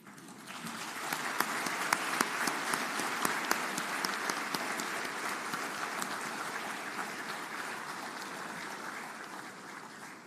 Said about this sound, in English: give a good round of applause to your parents in appreciation of their unwavering support